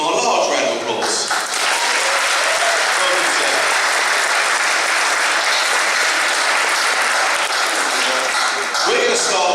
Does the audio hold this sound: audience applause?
yes